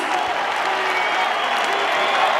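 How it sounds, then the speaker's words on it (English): Arena crowd at a mixed martial arts fight applauding and cheering as a fighter is introduced, a dense, steady wash of clapping and crowd noise filling the short stretch without pause. "ladies and gentlemen, how about a round of applause for the Huntington Beach bad boy"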